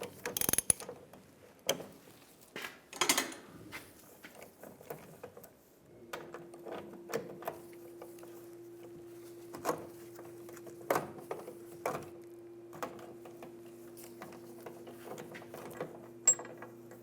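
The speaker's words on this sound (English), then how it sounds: "Using a 15mm socket, we're going to take the bolts out where the straps are." Hand ratchet with a 15mm socket backing out fuel tank strap bolts on a 2007-2013 Chevrolet Silverado 1500, giving scattered clicks and short bursts of mechanical ticking with pauses, plus a faint steady hum in the background.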